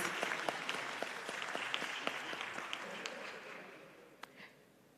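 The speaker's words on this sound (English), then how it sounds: "Please, a round of applause for them as they go back to their seats." Modest, fairly quiet applause from a forum session audience, with a few distinct sharper claps standing out before the clapping thins and fades toward the end.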